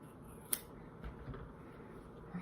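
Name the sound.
scissors cutting a wool hat blank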